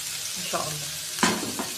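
Food sizzles and fries in a pan, with a couple of short scraping bursts as it is stirred, close and fairly quiet.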